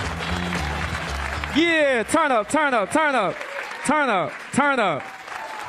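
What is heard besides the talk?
comedy club audience clapping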